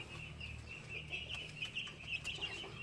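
Brahma chickens softly clucking nearby, a thin steady call running under low background rumble with a few brief louder peaks.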